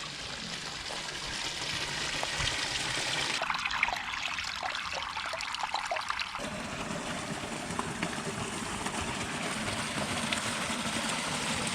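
Irrigation water runs steadily from a pipe into flooded rice fields in rural Japan, a continuous close rushing and trickling flow that holds even throughout, with no talk.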